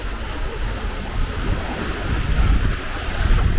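Steady wind roars across the mic while waves wash past a sailboat making about six knots in 18 knots of wind on an Atlantic passage from Tangier to Agadir, a dense, continuous rumble that grows slightly louder.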